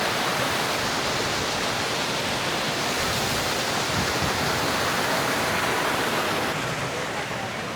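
Loud, steady rushing river water flows without pause in Thal Bazar, Upper Dir, Pakistan, a broad hissing roar that stays even throughout, with no voices.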